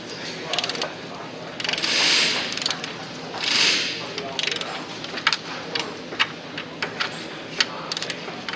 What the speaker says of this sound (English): So go ahead and get your torque wrench and socket on there.